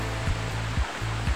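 Rushing water at Kalaha Falls in Barangay Olabi, Enrique Villanueva: a steady, broad roar with soft low thumps recurring about every half second, close and alone.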